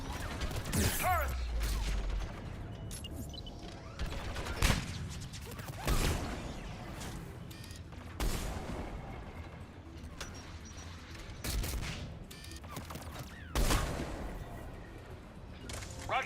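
Turret gunfire in the video game Mass Effect 3 comes in repeated sharp bursts of shots at irregular intervals, fairly loud against a busy background of mechanical combat noise.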